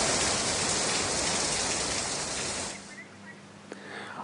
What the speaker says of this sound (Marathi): मनश्री, पाऊस आलेला आहे सगळीकडे